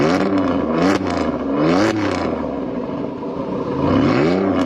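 Oldsmobile Alero GT with a small V6 and manual gearbox revs repeatedly, engine pitch sweeping up and falling back in several close, loud pulls with shifts between.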